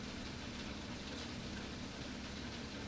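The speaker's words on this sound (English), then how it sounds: "Yes, it is raining here." Steady rain pours outside during an intense thunderstorm, a continuous broadband hiss with a low rumbling undertone throughout, no voices.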